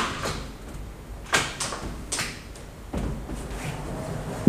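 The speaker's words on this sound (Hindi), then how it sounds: "दरवाजा नीचे से लिफ्ट हुआ और बहुत ही स्मूथली दरवाजा आराम से स्लाइड हो सकता है" A uPVC lift-and-slide door glides open on its wheels in a display showroom, giving a few soft rolling rumbles and light clunks, fairly close and quiet, with no talking.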